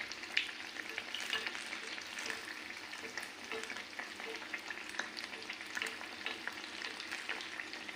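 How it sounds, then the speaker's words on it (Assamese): Bread pakora sizzles in hot oil, a soft, steady crackle with tiny pops scattered throughout, heard close and on its own at low volume. "ব্ৰেডৰ তলত তেলত দিলে নৰম হৈ যায়, ৰঙচুৱাকৈ ভাজিব"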